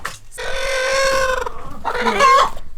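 Farm chickens in a backyard coop, a close hen giving a drawn-out, squawking cackle followed by more clucking calls, loud and clear with no talk.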